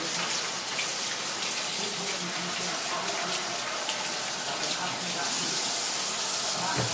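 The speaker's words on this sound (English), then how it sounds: "Okay, so I'm going to wash our hands really quick." Water runs steadily from a kitchen tap while hands are washed, a continuous close, broadband splashing hiss that holds an even level throughout with no talk.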